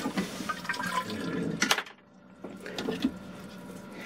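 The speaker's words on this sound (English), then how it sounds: "basically this will bring water inside the bowl." Water gushes and gurgles into a marine toilet bowl on a boat at close range, with a brief louder surge midway and a short pause before the flow resumes.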